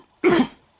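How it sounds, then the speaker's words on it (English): A single short, sharp cough, close and clear, standing alone against near silence. "Yeah, I'm fine, just a bit of a cough."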